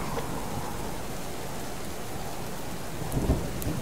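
Rain pours steadily in the video game Subsistence, a dense even hiss of drops, with a short low thunder rumble near the end.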